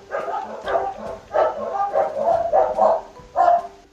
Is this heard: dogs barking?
yes